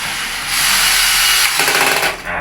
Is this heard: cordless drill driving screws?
yes